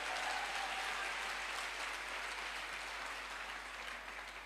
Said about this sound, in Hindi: सर के लिए एक जोरदार तालियां जरूर चाहता हूं